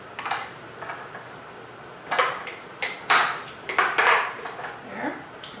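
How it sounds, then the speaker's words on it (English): Salad dressing being mixed in a covered glass bowl, sharp clinking and tapping of glass and utensil in uneven bursts, close and fairly loud, with no talking. "We're just going to cover the bowl and mix it all together."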